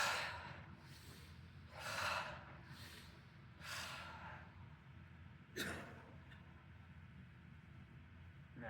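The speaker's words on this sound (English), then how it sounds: "Big breaths." Slow, deep breaths in a qigong class, several long airy inhales and exhales spaced a second or two apart, close and quiet.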